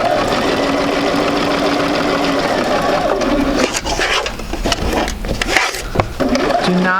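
A domestic sewing machine stitches quilt fabric with a steady motorized whir, then slows and stutters into uneven bursts and clicks as the fabric is turned.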